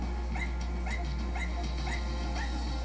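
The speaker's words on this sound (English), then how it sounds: "your dog was barking" A dog in the video game Enter the Gungeon gives a steady series of short, high yipping barks at an even pace, fairly faint over a constant low game hum.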